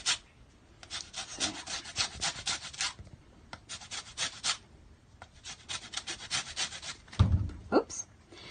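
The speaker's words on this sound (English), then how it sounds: "you can see pretty much that this lemon has been zested" A lemon scraped against a zester in a home kitchen, rapid rasping strokes in bursts with short pauses, close and fairly loud, with a brief clunk near the end.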